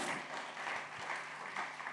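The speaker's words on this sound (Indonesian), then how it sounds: "Tepuk tangan buat Tuhan Yesus." Worshippers at an Easter church service clap for Jesus, a brief, fairly faint stretch of dense, even applause in a large room.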